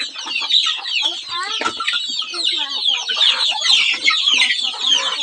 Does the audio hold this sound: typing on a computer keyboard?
no